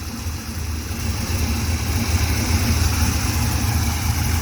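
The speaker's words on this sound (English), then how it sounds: "It sounds pretty good for something with a fairly cheap exhaust on it." Pontiac Firehawk LS V8 with an LS6 intake manifold, long-tube stainless headers and an inexpensive exhaust, idling after a cold start. It gives a steady, continuous low rumble at close range, with no talking.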